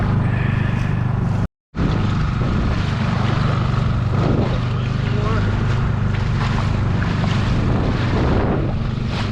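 A solo skiff's engine drones low and constant off La Jolla on the ocean, with wind buffeting the microphone throughout, briefly cut out once before resuming at the same steady level.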